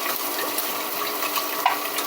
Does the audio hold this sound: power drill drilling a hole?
no